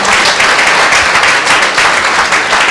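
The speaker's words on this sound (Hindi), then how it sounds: "एक जोरदार ताली से परमेश्वर के लिए।" A church congregation at a Sunday meeting breaks into loud, continuous applause, a dense and even wash of many hands clapping close to the microphone throughout.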